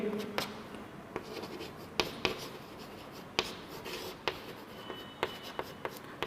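Chalk or marker writing on a board during a Class 12 chemistry lesson on chemical kinetics, heard as quick irregular taps and short scratchy strokes at close range, with no talk over them.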